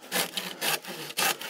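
A hand saw rasps through dead wood in rhythmic back-and-forth strokes, cutting from below, about four strokes in quick succession, close and clear with no voices.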